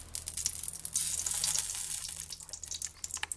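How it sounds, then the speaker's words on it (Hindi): Desi ghee sizzles in a hot kadai, a steady close hiss that holds for the whole span with crackling bursts over a low hum, and no voices. "कढ़ाई गरम करेंगे और उसमें 1 चम्मच करीब देसी घी डालेंगे।"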